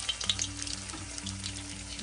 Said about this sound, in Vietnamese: Trước tiên là chúng ta sẽ cho gà vào chảo này, và cho cái phần mặt có da xuống trước nha các bạn.